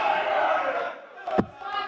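Crowd at a darts Super Series finale roars and cheers continuously, rising in a swell with a sharp burst near the end as the player conducts them, under the live arena din.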